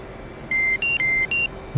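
Warning beeps from a DCS flight simulator cockpit: four steady electronic tones in quick succession, alternating between two pitches, clear over a low constant hum.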